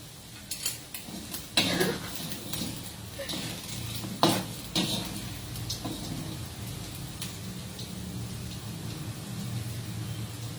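Sausages fry in a pan in a home kitchen in Bali, giving a steady sizzling hiss with scattered clinks of utensils against the pan over about ten seconds, and no talking.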